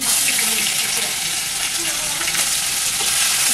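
Dried red chillies and garlic sizzling in hot oil, a loud, continuous close-up crackle and hiss that holds steady throughout, with faint talk underneath.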